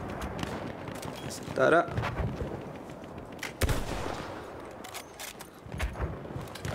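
Sharp gunshots ring out in the Battlefield 1 video game, scattered single cracks and distant booms amid battlefield noise, with a voice speaking briefly between them.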